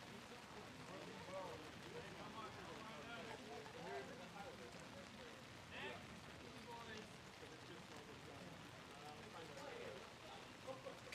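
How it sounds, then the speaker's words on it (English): Heavy pouring rain falls steadily throughout a wiffle ball game, a dense continuous hiss on surfaces with faint voices mixed underneath. "It is absolutely pouring rain right now."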